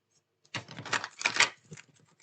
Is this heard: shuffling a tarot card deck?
yes